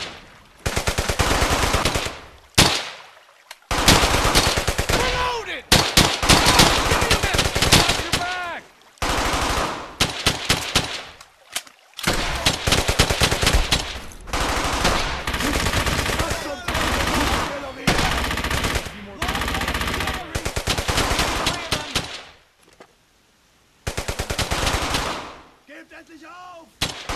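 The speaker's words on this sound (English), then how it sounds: "I want heavy fire on that MG!" Sustained bursts of machine gun fire rattle loud and close in the World War II shooter game Brothers in Arms: Hell's Highway, with overlapping gunshots and short pauses between volleys.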